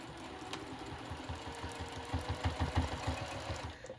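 Sewing machine stitching and back stitching along the edge of a thick fabric clutch, a quiet rapid mechanical chatter with a steady pulsing rhythm that grows a little louder midway, then eases off.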